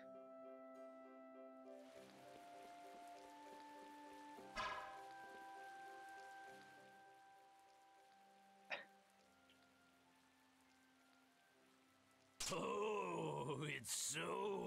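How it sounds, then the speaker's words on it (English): Rain falls in the Tales of Vesperia video game as a soft, steady hiss beneath sustained game music, with a couple of brief sharp accents and a loud groaning voice near the end. "It's raining."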